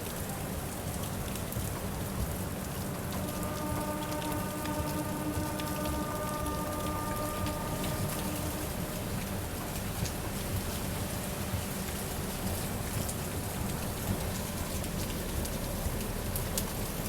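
Heavy rain pours steadily on a train stopped for a two-minute halt at Etawah, a dense, continuous hiss of drops with a faint tonal hum in the background and no talking.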